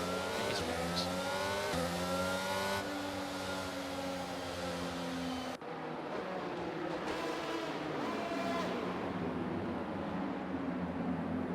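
F1 22 race cars forming up on the Bahrain Grand Prix starting grid, engine tones rising and falling in pitch as cars pass, steady and fairly close, with revving shifts midway.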